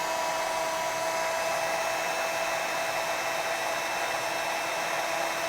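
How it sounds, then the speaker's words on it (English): A heat tool blows hot air onto the back of a fabric art journal, a steady loud whirring hiss with a high whine that runs unbroken the whole time, close and alone. "I will just start to heat it from the back"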